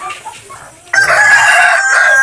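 A rooster crows loudly and close by after a few soft hen clucks, the long crow ringing out on its own at a Filipino backyard flock.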